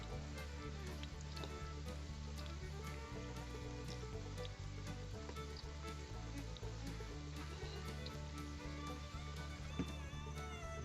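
Cauliflower pakoras fry in hot oil with a steady, close, dense sizzle and crackle that holds unbroken throughout, with no talking.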